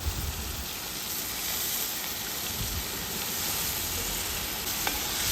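Yogurt poured into sizzling tomatoes in a pan for wedding-style chicken biryani gives a steady, close frying hiss and crackle that continues evenly with no talking.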